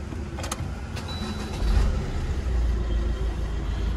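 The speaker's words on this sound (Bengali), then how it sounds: "চলুন ডিজেল ইঞ্জিন স্মার্ট হাইব্রিডের সাথে আমরা গাড়িটা একবার স্টার্ট করে দেখি" A 2019 Maruti S-Cross Zeta diesel with smart hybrid cranks and fires up partway through, its low rumble rising and then settling into a steady, close idle.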